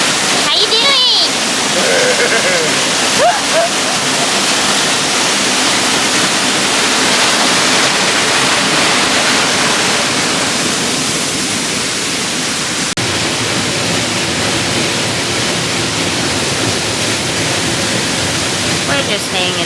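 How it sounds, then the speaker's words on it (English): A big waterfall pours beneath a large railroad track, filling the scene with a loud, constant close-up roar that lasts throughout, with a voice talking over it early on. "It's a big railroad track with a big old waterfall under it and a bunch of cool graffiti."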